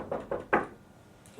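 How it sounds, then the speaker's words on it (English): Three firm knocks on a door in a care setting, evenly spaced and close, followed by quiet. "Then I would knock on the door and come back in."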